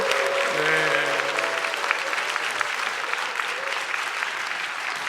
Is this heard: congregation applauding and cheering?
yes